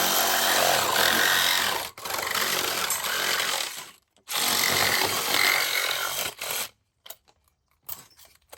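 A power saw fitted with a metal-cutting blade slices through a post for a dragon fruit trellis, two loud sustained cutting runs with a short gap, then the motor winds down with brief bursts.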